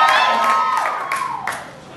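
Comedy club audience at the Atlanta Improv cheering, whooping and clapping loudly for about two seconds, the burst fading toward the end.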